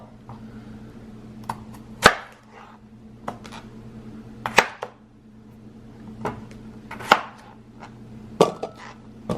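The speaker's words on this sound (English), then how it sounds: "I'm gonna chop them up just a little bit so that way they boil quicker" Potatoes are chopped on a board for boiling: sharp knife thuds come one at a time, about eight in all, close by and irregularly spaced over a quiet background.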